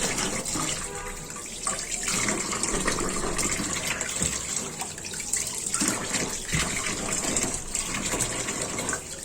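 Tap water runs steadily over tilapia fish being rinsed in a sink, a continuous splashing gush with shifting bursts as the fish are handled under the stream.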